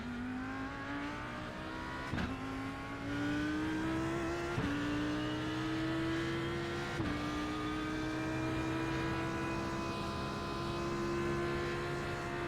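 A race car engine in the iRacing video game drones steadily at a high pitch, with brief drops and rises at each gear change, loud and continuous.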